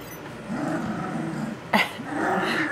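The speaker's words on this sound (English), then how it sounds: "Little grumbles and growls is hilarious." Three-week-old puppies growl and grumble close by in low rumbling bursts, with a brief sharper yelp partway through before the growling resumes.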